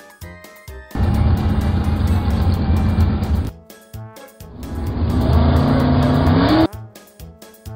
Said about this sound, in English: Follow me car.